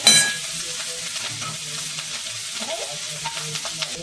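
Baby corn fries and is stirred in a pan as the water cooks off and it browns, a quiet steady sizzle with soft scraping stirs and occasional small pops, close by with no talking.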